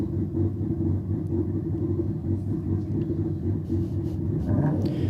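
Mazda RX-7 FD rotary drag car racing down the strip at Sydney Dragway, a steady, loud, deep engine rumble that holds continuously throughout, with a slight rise in intensity near the end.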